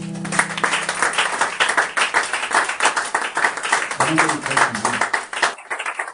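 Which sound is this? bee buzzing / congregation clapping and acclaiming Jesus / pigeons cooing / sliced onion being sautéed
congregation clapping and acclaiming Jesus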